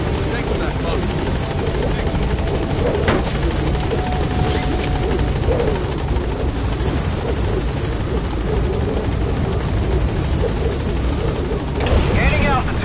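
In Metal Gear Solid 5, a support helicopter lifts off and climbs away. A loud, continuous rotor and engine roar holds close and steady throughout, with a faint voice near the end.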